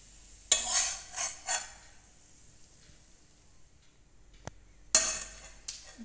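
Fried onion and garlic are scraped from a pan into mashed pumpkin, bursts of hissing sizzle and metal scraping come in short clusters near the start and again later, separated by quiet stretches with a single sharp clink.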